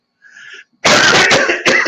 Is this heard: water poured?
no